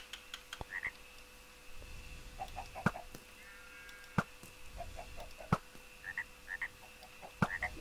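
Frogs croak in short, scattered bursts in the Minecraft Hexxit game world, fairly quiet against a steady faint background hum, with no talking.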